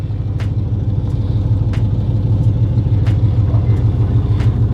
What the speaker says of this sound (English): First ride in the Elko. Let's get it.